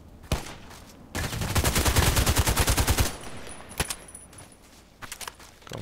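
Rapid automatic fire from an HK 417D assault rifle in a shooting video game, a dense burst of about two seconds with a sharp single shot before it and scattered lighter shots after.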